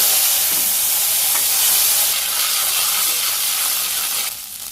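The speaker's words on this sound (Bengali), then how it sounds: "কড়াইতে তেল আছে, এই তেলেই আমি জিরে দিয়ে দিলাম।" Cumin seeds and ginger fry in hot oil in a wok, giving a loud, steady hissing sizzle that holds for several seconds before easing slightly at the end.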